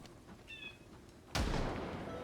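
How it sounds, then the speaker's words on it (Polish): A single gunshot in the zombie survival game Project Zomboid cracks out sharply and loudly, followed by a sustained rumbling echo, after a quiet stretch with faint ambience and a short high game tone. "Najgorzej, jeszcze strzał był."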